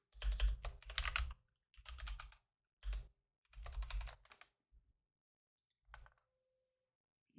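Bursts of quick keystrokes on a computer keyboard while typing code, close and fairly quiet, in short clusters separated by pauses, with no talk.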